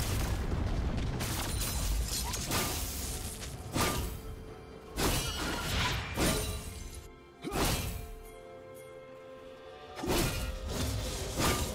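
League of Legends turret destruction in a Jayce versus Yone top-lane match, a series of loud crashing booms and shattering whooshes in repeated bursts with brief quieter gaps between.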